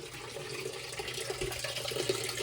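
A Whirlpool direct drive washing machine with a clogged fill valve slowly takes in water, giving a faint, steady hiss and rush of inflow that runs on without a break.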